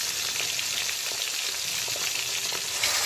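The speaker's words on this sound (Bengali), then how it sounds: "ওদিকে মাছটা যতক্ষণে ভাজা ভাজা হচ্ছে মাছের একটা দিক" Pomfret fish fries in a pan over a full flame, a steady close crackling sizzle with scattered pops running throughout, no voices.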